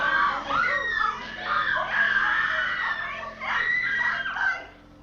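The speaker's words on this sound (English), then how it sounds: "And when she is screaming and coming back to the fore in the classroom" A woman screams in a nightmare scene of a horror film. Several loud, strained cries rise and fall over about five seconds before fading out.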